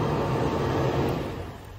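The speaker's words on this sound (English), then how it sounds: "You'll hear the fuel pump, and then it'll start up." The fuel pump and engine of a fifth-generation Toyota 4Runner run after a remote start, heard as a steady, close, droning hum that eases slightly near the end, with no voices.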